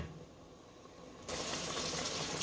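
Liquid from an emptied salsa jar gushes into a cooking pot, starting abruptly partway through as a steady, close pouring splash after a quiet kitchen moment.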